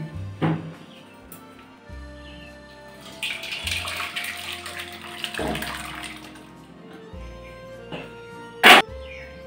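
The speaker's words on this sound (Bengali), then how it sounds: "ছানাটাকে এবার ছেঁকে নেব।" Curdled milk (chhana) poured through a white cloth over a vessel for kachagolla, a steady splash and trickle of liquid swelling mid-clip, with a few faint knocks and a sharp clink near the end.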